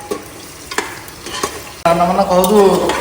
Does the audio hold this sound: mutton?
yes